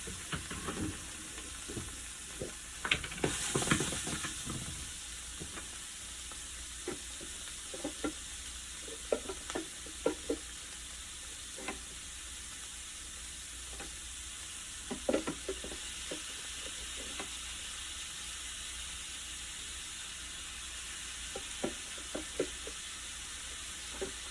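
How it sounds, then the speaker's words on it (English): String beans fry in a very hot buttered pan, giving a continuous broad sizzle close by, broken by scattered clinks and scrapes of stirring, loudest briefly near the start. "That pan is really, really, really hot. We're gonna throw the string beans in."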